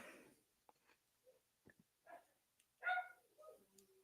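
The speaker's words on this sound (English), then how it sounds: "You hear my doggies barking in the other room." Faint, muffled dog barks and yips from a distance, scattered irregularly with quiet gaps, sounding like they come through a wall.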